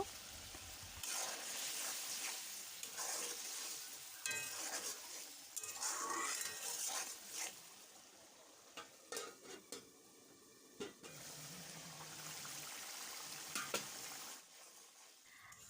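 Fried potato pieces being sautéed with tomato in a pan, with a steady loud sizzle, repeated stirring scrapes and occasional clinks of a utensil against the pan, continuous throughout with no talking.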